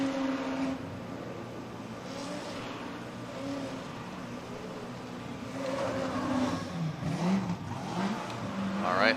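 Toyota Supra Mark IV drift car competing in a Formula Drift knockout qualifying round at Irwindale, its engine revving and surging throughout, loud and continuous with rising pitch sweeps near the end.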